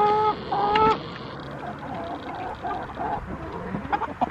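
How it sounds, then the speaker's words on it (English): A rooster clucks in a short run of harmonic calls, loudest in the first second and then softer and scattered over a busy farmyard background. "I always wanted a rooster."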